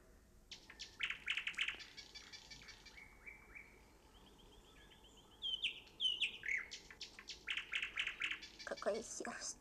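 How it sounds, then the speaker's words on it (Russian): A nightingale sings in a fairy-tale setting by Andersen, giving bursts of bright whistles, trills and rapid chirps, then a pause of thin sustained notes before dense phrases return, heard fairly close over a quiet background. "Самый настоящий соловей."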